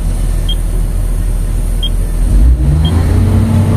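A Komatsu PC800-7 excavator engine runs loud and steady at high RPM close by, a constant heavy drone with three short high beeps spaced across it.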